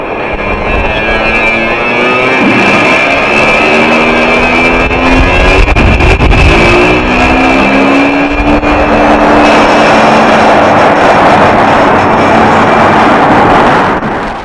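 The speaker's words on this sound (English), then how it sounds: "Off brakes now, burners ready now, and the Blue Angel Diamond is rolling." Blue Angels diamond formation jets rolling for takeoff on afterburner at an air and space expo, a loud sustained roar with rising and falling tonal whines building over several seconds.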